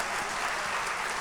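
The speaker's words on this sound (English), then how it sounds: "you can applause if you agree with this" Audience applause at a live talk-show recording, a brief, steady wash of clapping that fills the moment without any voices over it.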